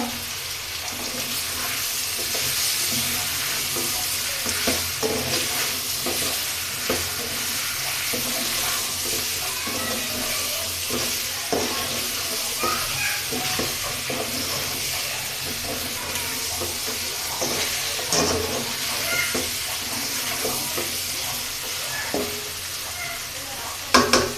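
Taro and meat sauté in a hot pan with garlic, a continuous sizzle and frying hiss broken by repeated scraping and clattering of a spoon stirring, close by and steady throughout.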